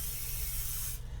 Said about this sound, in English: I'm just going to spray them with some of this canola cooking spray from Costco